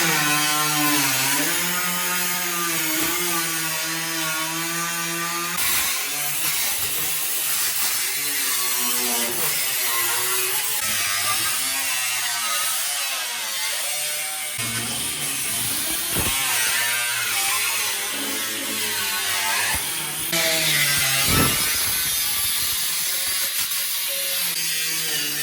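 A power saw cuts a hole through the sheet metal of a car trunk floor to fit a fuel cell, a steady harsh buzzing whine that runs continuously and close, with brief pauses and changes in pitch.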